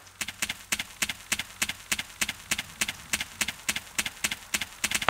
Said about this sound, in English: This footstep is just maddening